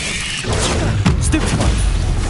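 A Confringo spell blast from the Hogwarts Legacy video game bursts out as a loud, booming explosion over a steady wash of game noise and effects.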